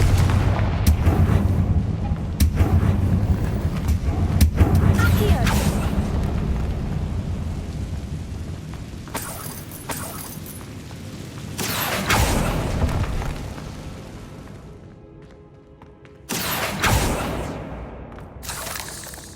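Confringo fire spells explode in Hogwarts Legacy, producing repeated loud booming blasts with rumbling tails, spaced several seconds apart across the scene.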